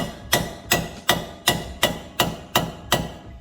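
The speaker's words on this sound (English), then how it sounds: "And then you're gonna grab a hammer." Nine sharp mallet blows on a part of a 10th-generation Honda Civic Type R during a lowering-spring install, struck at an even, steady pace, each a loud metallic knock with a short ringing decay.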